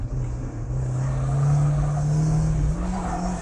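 Turbocharged Mazda Miata race car on a hot lap, its engine holding a loud, steady drone close up with a slight pitch swell mid-lap, continuous with no talk over it.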